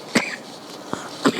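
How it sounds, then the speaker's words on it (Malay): A single cough during a religious class lecture, with two brief throat sounds nearby, close and fairly loud in a quiet room. "Dah nak habis dia batuk pula no."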